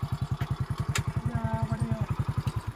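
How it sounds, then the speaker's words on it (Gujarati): A motorcycle engine runs close by in a fast, even thumping pulse at idle, loud and steady, with a brief sharp noise partway through and no clear talk. "ઓ ભાઈ ઓ ભાઈ બાઈક બંધ કરો"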